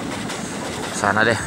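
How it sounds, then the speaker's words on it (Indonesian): A long passenger train rolls along a railway track with a loud, steady rumble and rhythmic rail noise close by. A voice speaks briefly over it near the end. "Kereta api panjang bener ya."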